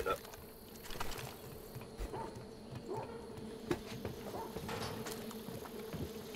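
Bees buzz steadily around a nest in the Far Cry 5 video game, a constant insect drone running throughout with brief louder clicks and game noises scattered over it.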